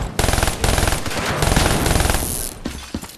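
Sustained automatic turret fire from a Call of Duty Black Ops 3 battle, loud, dense and rapid, hammering continuously for about two and a half seconds before breaking into scattered shots.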